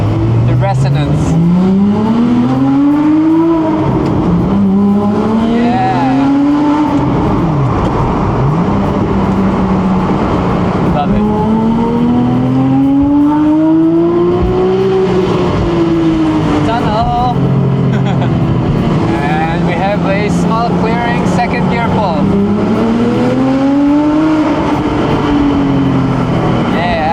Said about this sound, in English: This car sounds amazing.